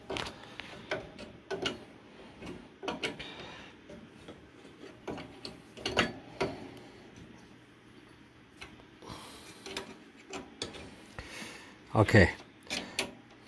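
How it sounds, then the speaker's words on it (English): A part of a Televes UHF/VHF TV antenna is turned by hand and threaded onto a nut. Faint, close, irregular ticks and small rubbing clicks come through under occasional speech, with one brief louder clatter near the end. "I'm just going to turn it in, and it's starting to thread onto the nut"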